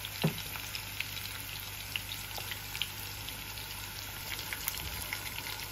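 Onion frying in a pan gives a steady close sizzle and crackle throughout, with a few faint clicks over a low hum and no talk.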